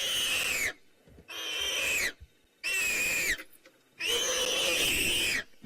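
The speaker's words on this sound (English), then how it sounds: "one of the reasons the predators go for that throat, I know the sound is really disturbing, is to try shut down that screaming" A warthog on the Maasai Mara screams as a lioness clamps its throat, giving four long, loud, strained squealing cries separated by brief silent pauses, near and with no talk over them.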